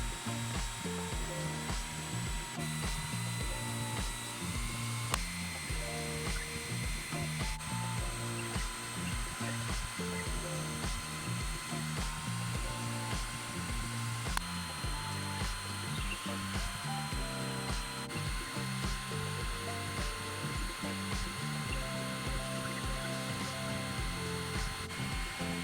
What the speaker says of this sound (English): I'm just using the edge of the belt sander